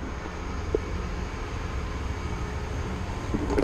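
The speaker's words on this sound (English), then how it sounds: "just missed a good train as well." A train runs along railway lines with a steady, dense rumble that holds throughout, heard from outdoors without any voices.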